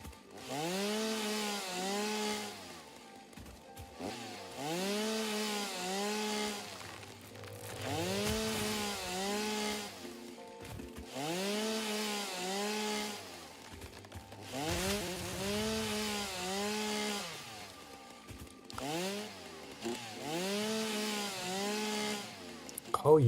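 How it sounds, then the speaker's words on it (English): A chainsaw buzzes in long, revving bursts while chopping down trees in the video game Satisfactory, each cut lasting a few seconds with brief drops between, loud and close throughout. "Oh, you can chop them down with the chainsaw."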